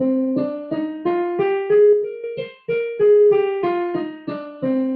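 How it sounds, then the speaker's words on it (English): An instrument plays a minor scale one note at a time, stepping up and then back down at an even pace, each tone clear and sustained. "Well, I can play the same scale in minor."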